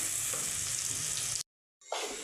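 Onions fry with a dense, steady sizzle in a pan for aloo palak curry; the hiss cuts off abruptly to silence for a moment and then returns.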